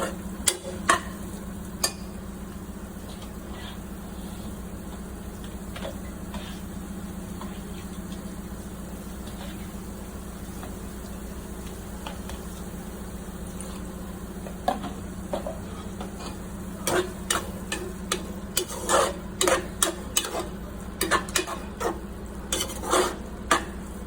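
A spoon stirs and scrapes chicken biryani masala in a pan over a low sizzle as the oil separates; the clicks and scrapes come sparsely at first, then quicken and grow louder.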